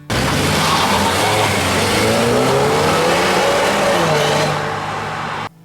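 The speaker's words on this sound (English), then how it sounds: "It's a Mercedes-sourced 2-liter that puts out 208 horsepower and 258 pound-foot of torque." A 2017 Infiniti QX30 with a Mercedes-sourced 2-liter engine, dual-clutch 7-speed automatic and all-wheel drive accelerates loudly and steadily, engine note rising through the pull before cutting off abruptly at the end.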